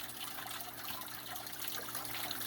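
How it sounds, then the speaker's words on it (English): Water trickling steadily from the waterfall of a 40-gallon aquarium, a soft, continuous splashing hiss with a faint low hum beneath it, quiet and close, with no voices. "this is my 40-gallon waterfall tank"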